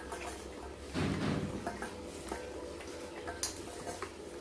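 Cooked rice is mixed by hand on a plate in a quiet home, heard as soft irregular squishing and light clinks against the plate, with one brief louder rustle near the start.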